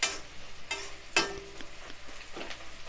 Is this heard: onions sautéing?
yes